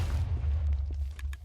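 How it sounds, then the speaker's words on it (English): Explosive pillar blasts in the Minecraft Avatar mod rumble as a heavy, continuous low boom lasting over a second, with a couple of faint pops layered on top. "the next one we got here, which is explosive pillar, which shoots down like a huge row of explosions"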